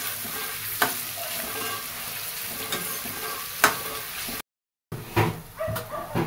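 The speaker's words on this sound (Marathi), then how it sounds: "कांदा छान तांबूस होईपर्यंत मस्त ह्याला परतून घ्यायचं" Onions for biryani frying until golden brown, with a steady close sizzle broken by several scraping stirs and a brief dropout to silence before the stirring resumes.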